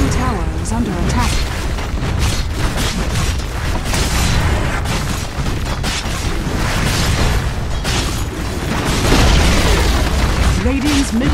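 Explosive booms and crashing impacts from a tower under attack and collapsing in the Dota 2 video game, dense and continuous, with a heavy burst near the end under steady game action.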